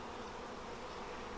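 Honeybees from an opened hive, with frames being lifted during an inspection, fill the clip with a steady, dense close-up hum of many wings, continuous and unbroken, with no talking.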